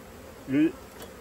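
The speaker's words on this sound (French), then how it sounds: "Les abeilles rentrent." A honeybee gives a brief, close buzz as bees return into their hive, rising quickly and then fading against a quiet background.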